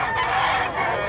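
A blue-legged gamecock, about eight months old, crows once in a brief, loud, strained call heard close by, with outdoor background noise around it.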